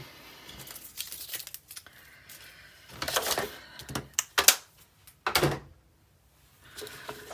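Paper being trimmed for a scrapbook page, with a few short, crisp cutting and rustling bursts separated by quiet pauses, close and fairly soft.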